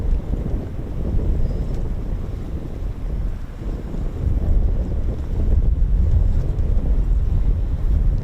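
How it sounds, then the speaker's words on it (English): Gusty wind buffeting the microphone at an RAF airfield, a constant loud low rumble that swells and eases without pause and with no talk over it. "It's a little bit gusty today, so we're gonna have to hang on tight, hang on to our berets."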